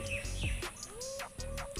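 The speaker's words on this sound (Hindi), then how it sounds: "दूसरी चिड़िया की आवाज़ तो आ रही है आप लोगों को, उन लोगों की आवाज़ सुनकर खुश रहिए।" Several birds chirp and whistle outdoors in quick, varied calls, some rising and falling sweeps close by, over a faint background hum with no talking.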